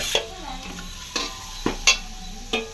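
Tomatoes, about half a kilo's worth for a home-style chicken biryani, are stirred in a hot pan, with a steady frying sizzle and four or five sharp spoon scrapes spaced across a short stretch.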